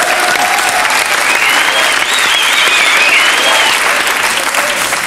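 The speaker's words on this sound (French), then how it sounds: "On l'applaudit. On applaudit Philippe Guérin." A television game show studio audience applauds a contestant with loud, dense, sustained clapping that stays even throughout, with a faint whistle or tone drifting through the middle.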